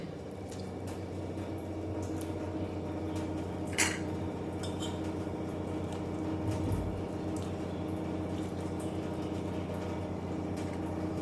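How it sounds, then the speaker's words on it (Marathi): Soaked soya chunks squeezed by hand, with soft wet squishes and drips over a steady low background hum, plus a sharp clink of a utensil partway through. "अशा प्रकारे सर्व सोयाबीनमधून आपल्याला पाणी काढून घ्यायचं आहे"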